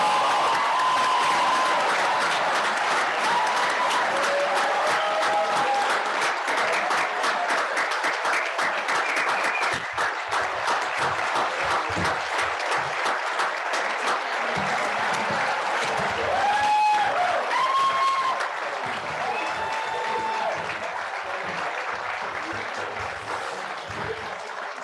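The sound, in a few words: audience applause for graduating class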